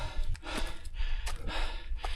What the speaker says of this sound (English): How do you like my panting?